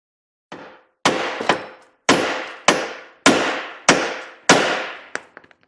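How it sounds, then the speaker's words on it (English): Hammer blows land on a car's lower control arm while freeing a ball joint, about seven loud, ringing metallic strikes spaced under a second apart, close by, ending in a few faint rattling clinks. "we can just give the lower control arm a tap with the hammer and it should pop free."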